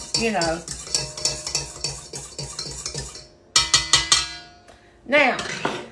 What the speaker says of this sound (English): I just take my whisk thing here and I just stir this around